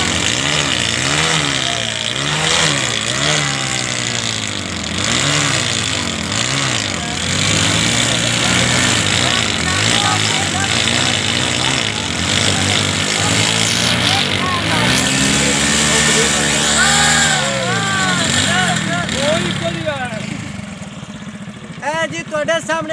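A Sunica 12 model motorcycle engine revs repeatedly in loud rising and falling bursts throughout, close by, with people talking over the engine noise during a tug-of-war event.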